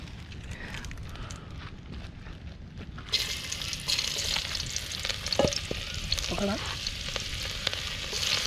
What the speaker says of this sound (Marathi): तेलाने गरम झाला पूर्ण आणि आता त्याच्यात आपण कांदे टाकूया